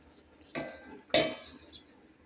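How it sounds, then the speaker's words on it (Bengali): A metal lid goes onto a cooking pot of fish curry with two short clanks, close and fairly soft, in a quiet kitchen. "ব্যাস, এবার একটু ঢাকা দিয়ে দেবো।"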